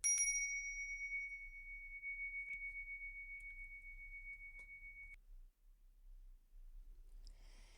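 A single bright bell strike rings out with a clear, sustained tone that slowly fades over about five seconds, followed by quiet.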